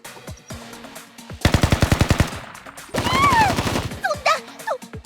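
Rapid automatic gunfire in the anime-style shooter Blue Archive, two sharp, loud bursts of evenly spaced shots, the second overlapped by a character's shouted voice, followed by short vocal cries.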